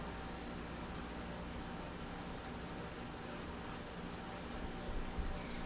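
A pen or pencil writes a title on a math line plot, a faint, steady scratching against constant background hiss, with a slightly louder stroke near the end.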